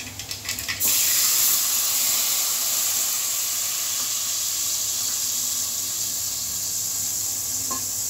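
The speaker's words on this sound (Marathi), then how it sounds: "आता आपण चिंचेचं पाणी टाकायचं त्याच्यात." Tamarind water hits hot oil tempered with mustard seeds, setting off a few clattering splashes and then a loud, steady hiss of sizzling that slowly eases over several seconds, with no talking.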